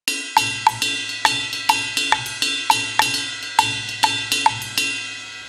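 A two-measure cascara pattern played on a ride cymbal: crisp, evenly spaced stick strikes with bright ringing wash, sounding alone and close for several bars.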